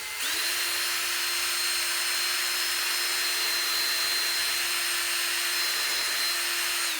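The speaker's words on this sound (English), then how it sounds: "I'm just going to find where I want to drill it at." A power drill whirs at a constant high pitch, spinning up, running steadily for several seconds, then stopping; loud and close.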